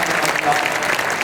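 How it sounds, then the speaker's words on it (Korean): Applause rises from a church congregation at a Christmas Sunday worship service, a short steady wash of clapping heard throughout the moment. "주로 오신 예수님께 영광의 박수 다시 한번 돌려드리겠습니다."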